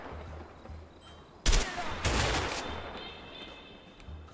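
Gunfire in the video game A Way Out: a sudden loud burst of shots followed by a second sustained volley, against a quiet game ambience.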